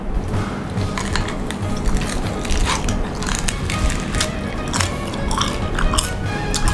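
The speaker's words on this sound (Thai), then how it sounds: "กินหมูหันยังไงให้สะใจต้องแดดแบบนี้นะครับ" Crispy roast suckling pig being bitten and crunched, a steady run of crackly, crunchy chewing close to the mic with faint clinks of dishes, no talking.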